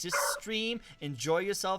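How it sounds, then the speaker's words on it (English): A roommate's dog gives a few yappy, whining barks close to the microphone, mixed in with a voice talking at the same time. "Yeah, that's my roommate's dog."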